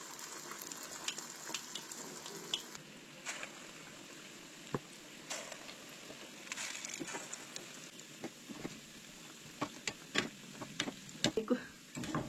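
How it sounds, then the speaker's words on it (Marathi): Urad dal vadas for dahi vada deep-frying in hot oil, a soft bubbling crackle with scattered sharp pops and ticks, close and quiet, with no talk. "वडे पळयात आमचे बरे फ्राय जाल्यार आनी कुरकुरीत जाले. हे पळयात, आवाज आयकूं शकता तुमी."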